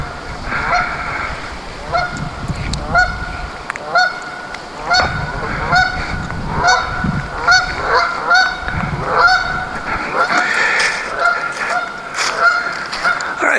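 Geese honk near a pond outdoors, repeated loud nasal calls in an uneven rhythm that keep going throughout, with no talking.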